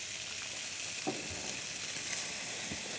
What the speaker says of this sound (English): it's time to rotate our sausages now.